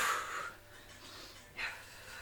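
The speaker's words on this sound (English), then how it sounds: "You can probably hear me breathing." Faint, heavy breaths near the microphone during a boxing HIIT workout, a strong exhale at the start and another sharp breath about a second and a half later.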